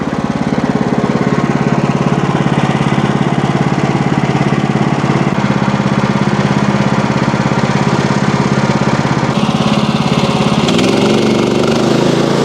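A portable Woodland Mills sawmill cuts a burled maple stump log, its engine droning loud and steady throughout while the blade grinds through the wood, with a shift in pitch near the end.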